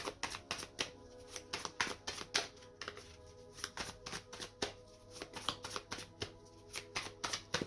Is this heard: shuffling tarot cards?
yes